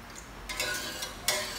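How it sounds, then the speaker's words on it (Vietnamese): A spoon stirs sugar into a pot of Vietnamese grass jelly dessert, giving soft scraping and clinking strokes at an uneven pace, close and fairly quiet, with no talking. "mình khuấy cho nó tan đường"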